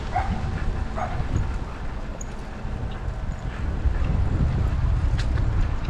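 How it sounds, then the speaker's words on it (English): Huskies bark behind a chain link fence beside a road, short barks scattered over steady wind rumble and a running engine. "It's huskies up here in this chain link fence."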